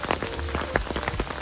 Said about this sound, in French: il pleut assez fort